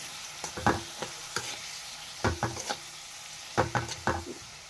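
Cabbage palya being stirred in a pan with oil and chili powder, a spatula scraping and tossing in short bursts over a soft sizzle, close and without talk.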